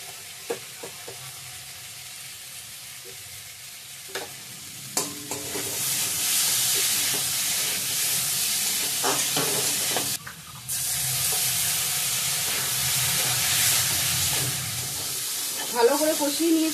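Spices and boiled potato frying in a pan, a steady sizzle with scraping stir strokes that swells louder midway, with faint voices briefly in the background.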